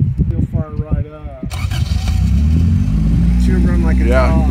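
A car engine cranks and fires up after a stretch of talk, then settles into a loud, steady idle that carries on under continuing conversation; the car is known to need a new clutch.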